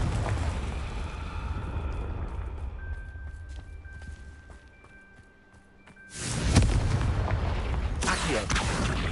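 Confringo explosive curse in Hogwarts Legacy bursting with a sudden loud blast after a quieter stretch of low rumble and faint tones, the explosion leaving a broad roaring wash that lingers to the end.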